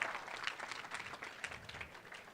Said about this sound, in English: How about a big round of applause for all 3 of those bidders?